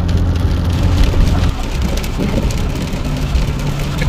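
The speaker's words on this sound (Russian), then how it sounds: "почувствуйте шум дождя за окном машины." Rain patters steadily against a car window at night, a dense, continuous hiss with a low rumble underneath, close and moderately loud throughout with no voices.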